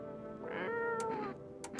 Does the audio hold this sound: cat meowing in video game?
yes